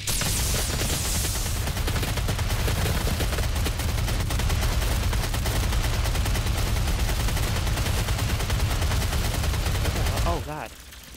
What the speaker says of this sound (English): of course they're using a sniper